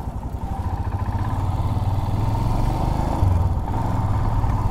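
A motorcycle sets out on an early morning ride on a dusty road near Morbi toward the Rann of Kutch, its engine holding a steady, close, low throbbing drone throughout.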